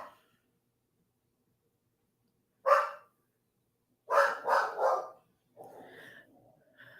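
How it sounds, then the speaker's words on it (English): A dog barks indoors in short, close bursts: one sharp bark, a pause, then three quick barks in a row followed by a softer whimpering yelp, with quiet between them. "I don't know what he's barking at."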